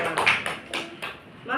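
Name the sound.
classroom clapping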